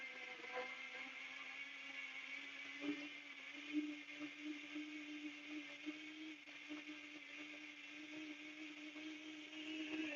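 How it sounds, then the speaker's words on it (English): A kitchen blender runs steadily on medium power for the whole stretch with a constant droning whir and small wobbles in pitch. No one speaks over it. "I'm going to turn my blender on."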